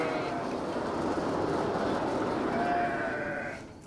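Basco-Béarnaise sheep bleat on a farm, a continuous blended chorus of the flock at moderate distance, fading slightly at the end, with no speech.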